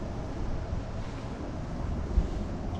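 Steady wind roaring and buffeting across the microphone outdoors on a long travel day, a dense low rumble that stays loud throughout with one brief gust thump and no talk.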